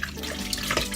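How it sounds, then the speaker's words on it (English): Tap water runs in a gentle stream over a bowl in a kitchen sink while lemon is rinsed off raw chicken, a steady close splashing wash with no pauses. "have your water running just over the bowl and a gentle stream"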